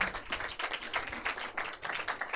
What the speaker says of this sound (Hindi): तालियां निरंतर बजती रहेंगी